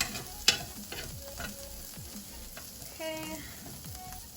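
Chicken fries in a little oil in a skillet, a soft, low sizzle with light utensil clinks and scrapes, and one brief spoken word over it.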